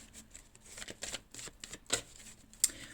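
Playing cards handled and shuffled at a tarot-style reading, a run of soft, close riffling flicks and papery snaps in an irregular rhythm, with a couple of sharper clicks standing out near the end.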